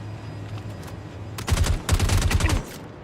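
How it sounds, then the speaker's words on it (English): Covering gunfire in the space shooter game Star Citizen: two dense bursts of rapid automatic fire, loud and close, separated by a brief gap, following a low steady hum. "Laying down covering fire."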